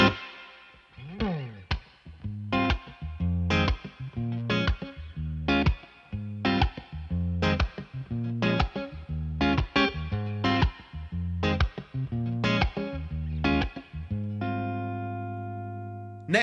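Electric guitar through a Victory V4 Duchess amp on a clean, bright tone with reverb, a series of strummed and picked chords in a steady rhythm with short gaps, each ringing into a reverb tail, finishing on a long sustained chord.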